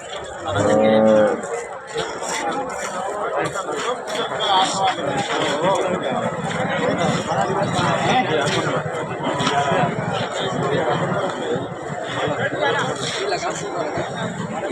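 A cow lets out a loud, close moo amid a busy crowd of people chattering and calling nearby at a livestock market in Husnabad.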